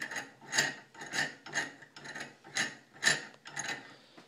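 The handles of a vintage American-made Stanley No. 400 vise are turned, producing about eight regular grinding, ratcheting squeaks in a steady rhythm, close and fairly quiet.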